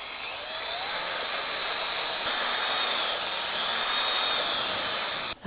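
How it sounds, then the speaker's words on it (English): A drill with a paddle mixer runs continuously at high speed mixing grout, a loud steady whine with churning noise, cutting off abruptly at the end. "I even attached the stirry thing to the drill all by myself."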